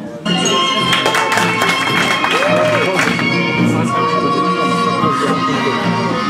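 Audience applause at an open-mic slam poetry evening, a dense, steady wash of clapping that starts abruptly and fills the room, with voices and other sounds mixed in.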